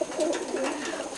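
Pigeons coo at close range in short, soft overlapping calls during a feeding spot scattered with corn, with a steady background murmur throughout.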